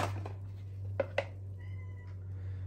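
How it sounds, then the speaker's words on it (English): A pet cat meows once, a clear and fairly close call, against a quiet indoor room. A steady low electrical hum runs underneath, and a couple of short knocks come just before the meow. "Cat's back."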